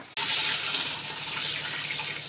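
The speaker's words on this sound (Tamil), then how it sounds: "இப்போ நமக்கு தேவையான தண்ணியை ஊற்றிக்கலாம்." Water suddenly gushing in a steady stream into a cooking pot of curry leaves and tomatoes, a loud continuous splashing pour close by.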